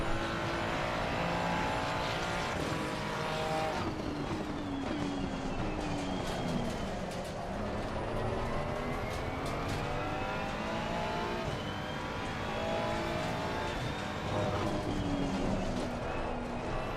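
Race car engine held at full throttle in a VR sim racing game at Zandvoort, loud and continuous, with rising and falling harmonic sweeps as the revs climb through gear changes, no talking.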